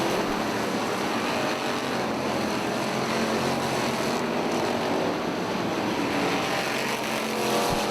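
Pure stock cars race at Lake Ozark Speedway, a loud, dense roar of engines sweeping through the turns for several seconds, heard from a distance with no clear voices.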